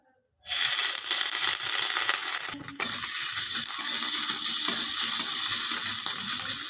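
Asafoetida and grated ginger sizzle in a spoonful of hot white oil in a pan, a loud, steady frying hiss that starts abruptly and continues throughout with faint stirring clinks and no talk.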